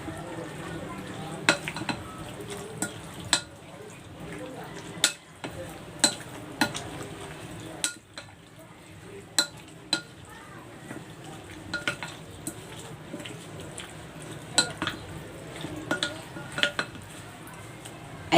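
A spoon stirs creamy dressing into a corn and cucumber salad in a bowl, giving soft wet mixing sounds with repeated light clinks of utensil against the dish, near and fairly quiet.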